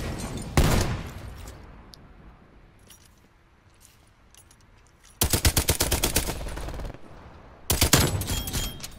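Rapid automatic gunfire from Black Ops Cold War multiplayer: a sharp early burst, then two long, loud, close strings of fast shots separated by a quieter stretch.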